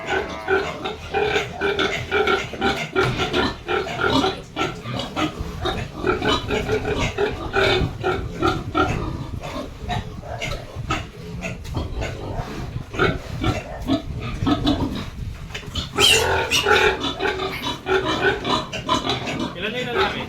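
Pigs, among them a boar, grunt and snuffle continuously on a farm, close and fairly loud, while people talk over the animals throughout.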